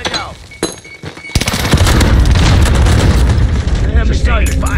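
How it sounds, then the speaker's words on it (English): A frag grenade goes off in a first-person shooter video game, a heavy boom that rolls into a long, loud, sustained roar of blast debris and gunfire after a few sharp shots. "Tossing a frag! Right now!"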